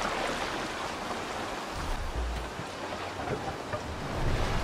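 A boat sails through rolling waves in Assassin's Creed Valhalla, giving a steady, loud wash of water and wind-like rush that swells slightly near the end, with no voices.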